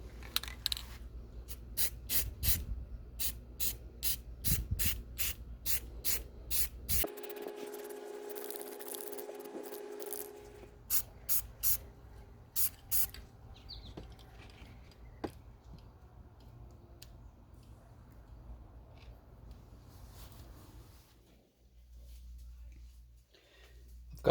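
Bursts of aerosol spray paint as a second coat goes onto a 1977 C3 Corvette power steering cylinder, a run of short hissing sprays, then a longer steady hiss, then more quick bursts, all close by.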